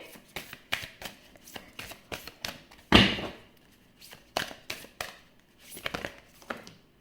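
Tarot cards being shuffled by hand, a run of quick papery riffles and flicks close by, with one sharper snap partway through and short pauses between bursts.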